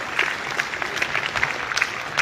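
Audience applause at a school annual day celebration in Rajouri, welcoming a retired principal: a steady, dense patter of many hands clapping for about two seconds, with faint voices mixed in.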